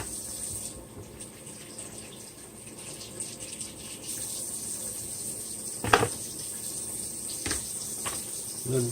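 Tap water runs steadily into a sink as raspberries are rinsed, a constant close hiss with a couple of brief clunks and splashes.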